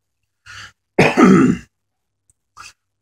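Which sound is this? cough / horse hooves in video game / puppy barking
cough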